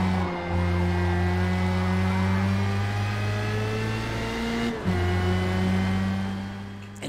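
A Formula Mazda race car engine in Forza Motorsport at the Nürburgring holds a loud, steady high-revving drone, dips briefly on an upshift, then climbs again, with faint tyre noise underneath.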